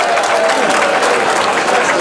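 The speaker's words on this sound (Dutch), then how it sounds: "Mag ik een applaus vanavond voor onze gastspreker" A crowd at an evening quiz final applauds a guest speaker, loud continuous clapping close by, steady throughout with a faint murmur of voices under it.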